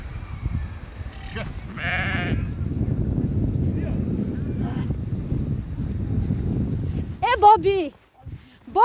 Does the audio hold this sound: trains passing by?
no